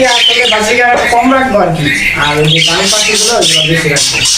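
Budgerigars squawk and chatter loudly and continuously in a crowded aviary, a dense close-up flock with overlapping harsh calls and a voice faintly mixed in.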